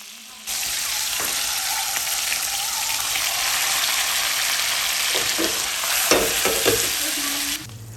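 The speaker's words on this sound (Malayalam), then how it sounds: "അങ്ങോട്ടും ഇങ്ങോട്ടും മറിച്ചിട്ടിട്ടൊന്ന് ഫ്രൈ ചെയ്തെടുക്കുക." Chicken pieces fry in hot oil over a high flame, a loud continuous sizzle that starts abruptly, with clatters and scrapes toward the end as the pieces are turned.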